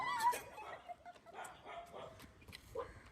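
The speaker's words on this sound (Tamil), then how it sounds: "உண்மையிலே நாய் வந்துட்டான்." A dog arriving indoors and giving several short, yipping barks and whimpers, close and moderately loud, spread over a few seconds.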